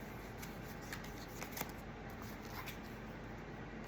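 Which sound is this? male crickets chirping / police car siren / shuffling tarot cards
shuffling tarot cards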